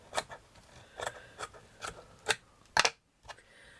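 Scissors snip through lace fabric to cut flower petals, making a series of short, dry crisp cuts at an irregular rhythm, close and fairly faint, with no talking.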